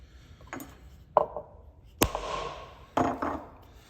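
A wood chisel is struck with a mallet while cutting a cooper's shave, giving four sharp, close knocks, spaced about a second apart with the third the loudest, each with a short ringing tail and no speech.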